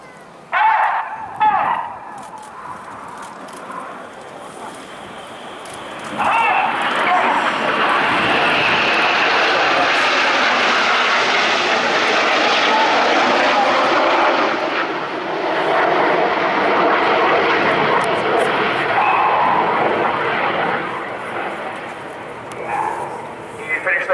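Royal Air Force Red Arrows jets fly rollbacks in a display at RIAT, a loud, sustained jet roar that rises and holds, with a commentator talking and a dog barking briefly.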